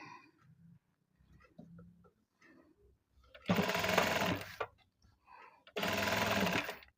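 Sewing machine stitching a fish-cut sleeve border design, running in two loud, steady bursts of about a second each, separated by quieter handling noises of fabric and movement.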